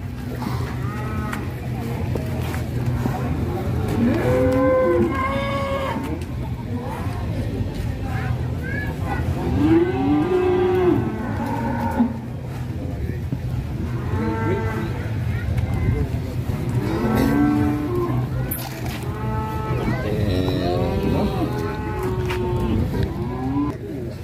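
Cows moo repeatedly, loud and close, with long drawn-out calls rising over a background of people chatting.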